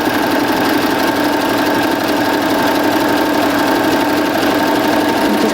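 A Baby Lock serger stitches stretchy fabric at a close, loud, even speed, its rapid mechanical chatter running without pause throughout.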